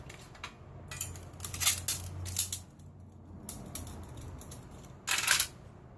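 Small case of a Trangia nano alcohol stove being closed, a series of light plastic and metal clicks and rustles in short bursts, close and quiet with no talk.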